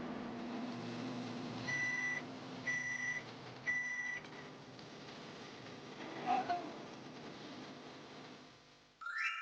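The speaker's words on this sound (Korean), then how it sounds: "전자레인지에 7분에서 10분 정도 찔 거예요" A microwave oven runs with a steady hum while steaming duck with sweet pumpkin, three evenly spaced beeps sounding midway before the hum stops and the door clicks.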